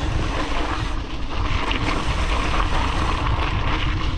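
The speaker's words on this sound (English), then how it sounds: "Riding this gravel road" A mountain bike rolls along a gravel road on a winter short track race course, heard as loud, steady wind rush over the microphone with constant rolling crunch beneath it.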